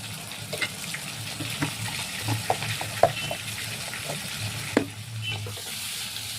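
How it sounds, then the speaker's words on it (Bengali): Onion paste frying in a pan with a soft continuous sizzle, punctuated by sharp clicks and scrapes from stirring, steady and close with no talking. "পেঁয়াজটাও আমি খুব ভাজা ভাজা করবো।"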